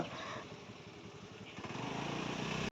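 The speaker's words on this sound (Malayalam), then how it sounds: "അപ്പോൾ അവർ രണ്ടുപേരുടെ ബൈക്കുമായിട്ടാണ് ഞങ്ങൾ ഈ പോയിക്കൊണ്ടിരിക്കുന്നത്" Motorbike engines drone steadily and close, the note rising slightly as the ride continues through narrow village lanes on the Thuravoor–Kumbalangi route, before cutting off abruptly at the end.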